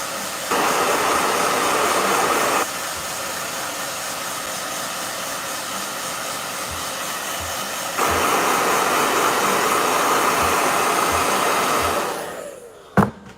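A blow dryer runs in loud steady bursts, a broad whooshing hiss switching on, cutting off briefly, then roaring again for several seconds before winding down, followed by a single thump.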